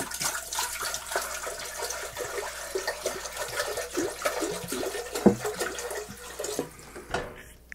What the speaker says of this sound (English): So we're going to add roughly half of our water.